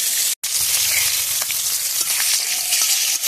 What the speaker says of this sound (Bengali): তো চলো মাছটা আগে ভেজে নিই